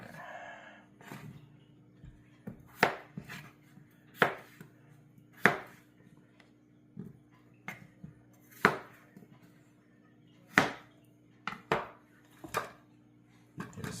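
Knife chopping potatoes into chunks on a cutting board for chicken afritada, about a dozen sharp, separate knocks at uneven intervals over a low steady hum, close and fairly loud with no talk.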